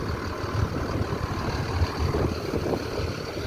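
Bus engine idling at a terminal, a low, steady diesel rumble with faint uneven pulsing, moderately close and alone for a few seconds.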